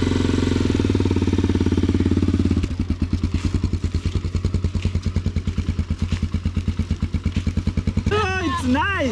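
A motorbike engine putters close by, first a smooth steady idle, then a loud rapid chugging thump as it revs and runs, with a few brief voices near the end.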